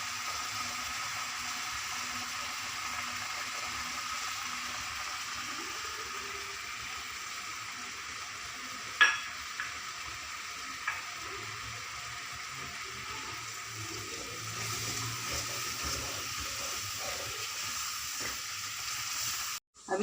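Vermicelli cooking in a pan for shahi zarda gives a steady, soft sizzle across the whole stretch, with a couple of brief clinks partway through and a slight rise in the bubbling near the end.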